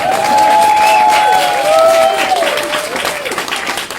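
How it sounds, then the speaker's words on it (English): An audience claps at a book launch in Brighton and Hove: a dense, steady wash of applause for about four seconds, with a thin whistling tone riding above it and a few voices mixed in. "Clap if you want."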